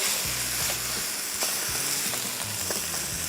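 Empanada filling sizzling in a hot pan while a spoon stirs it, steady bright frying hiss with a few scraping strokes, close and alone without talk.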